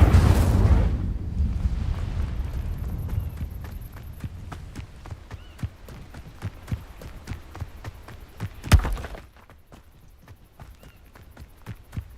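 A fire spell is cast in a video game: a loud, broad whooshing burst opens, then steady clicking footfall-like taps run beneath, and a second sharp blast cracks out near the end before things quiet down.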